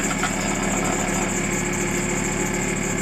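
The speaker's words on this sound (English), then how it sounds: "I've just put the lathe speed up." Wood lathe spinning a lacewood platter blank at 1800 rpm in forward, giving a steady, loud motor hum with constant vibration and a faint high whine, running alone with no talk for the full stretch.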